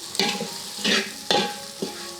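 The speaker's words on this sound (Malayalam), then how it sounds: "നന്നായിട്ട് വഴണ്ട് വന്നപ്പോൾ അതിലോട്ട് നമ്മൾ മുരിങ്ങയ്ക്കയും കൂടി ഇട്ടൊന്ന് ഇളക്കുക" Drumsticks stirred into fried onions in a pan for a Kerala curry: four distinct scraping strokes, each bringing a swell of close, crackling sizzle, with no voices.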